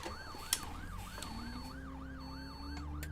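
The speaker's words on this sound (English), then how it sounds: "Heck, there's a flipping siren." A wailing emergency siren in the OMSI 2 bus simulator video game rises and falls steadily in a repeating cycle over a low engine rumble, with a brief sharp click early on.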